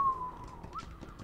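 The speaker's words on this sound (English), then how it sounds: "that was a horrible whistle" A short, wavering human whistle drifts in pitch over a faint, noisy background, sounding thin and somewhat off-key.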